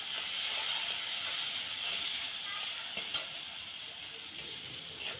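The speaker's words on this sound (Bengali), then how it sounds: "কড়াইতে তেল দিয়ে ঝাল পেঁয়াজ দিয়ে দিচ্ছি" Chili and onion fry in hot oil in a wok with a loud, steady sizzle and hiss, broken by a few light stirring scrapes.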